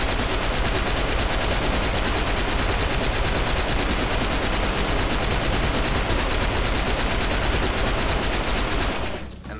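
Gunfire in the video game XIII, a dense, continuous barrage of loud rapid shots sustained for nearly ten seconds before cutting off abruptly at the end.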